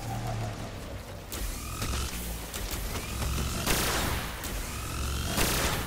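A charged gun firing in the video game Destiny, several loud bursts of charged shots with sweeping whines and crackling blasts over constant in-game background noise.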